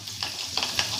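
Crushed garlic fries in hot oil with a steady close sizzle, broken by a few quick stirring scrapes.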